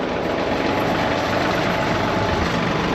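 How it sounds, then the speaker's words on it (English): A small tractor engine fitted with forks idles steadily and close by, a continuous low rumble with a buzzy texture and no voices. "Sure is nice having a little tractor with forks on it"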